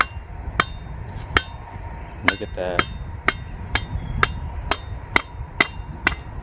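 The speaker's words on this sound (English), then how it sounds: "If you do run into a knot, you might have to really hammer it hard." A hammer strikes a splitting tool into knotty wood, landing about a dozen sharp metallic blows at a steady rhythm, with brief talk underneath.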